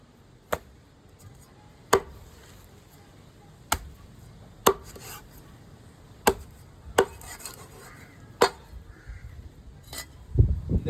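A knife chops through dried Vanjaram seer fish with about a dozen sharp, evenly spaced thuds on a board, close and loud, with faint handling noise between strokes and no talk.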